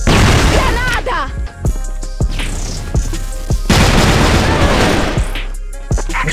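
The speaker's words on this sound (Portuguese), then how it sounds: "Granada." A grenade detonates in an online shooter game, a loud boom amid repeated sharp gunshots and clattering bursts, with voices talking over the action.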